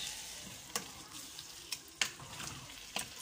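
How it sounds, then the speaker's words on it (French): A fish mixture of horse mackerel cooking in a pot with sweet potato leaves, a soft faint sizzle with a few sharp scrapes and knocks of a spoon as it is stirred, nobody talking. "Et je vais remuer. Tourner ma marmite."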